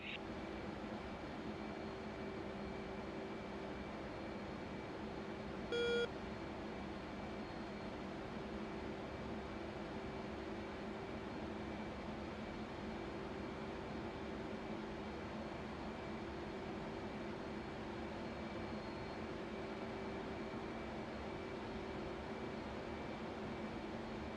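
An F/A-18 jet taxiing in the DCS flight simulator gives a faint, steady engine hum and whine that holds at an even level throughout, with one brief tick partway through.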